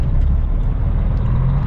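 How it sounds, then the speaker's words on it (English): A truck trailer's air brakes releasing, a loud, close, steady hiss of escaping air lasting the whole short moment, with no talking. "And the brakes release."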